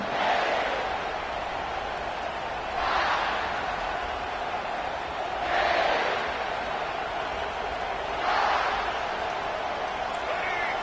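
A video game football stadium crowd in Madden roars steadily through the clip and swells in periodic waves of cheering, with a commentator talking over it.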